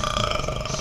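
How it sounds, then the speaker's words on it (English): A loud, close belch rumbles out in one continuous burst of just under a second, with no talking over it. "I was burping during that."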